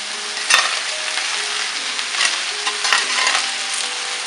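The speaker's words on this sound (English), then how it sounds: "You don't put a lid on this, just leave it to fry for a bit." Okra frying uncovered in an oily pan beside potatoes, a continuous close hiss and sizzle with a few brief louder crackles, steady and fairly loud, with no talking.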